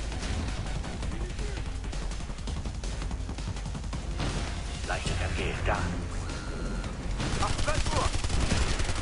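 Rapid gunfire and explosive crashes from a tactical shooter video game, Ghost Recon: Future Soldier, loud and dense throughout, with bursts of automatic fire and occasional heavier impacts.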